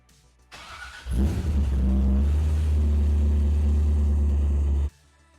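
A Chevrolet C5 Corvette with electrical problems starts up: a short crank, then the engine catches into a loud steady idle for about four seconds before shutting off.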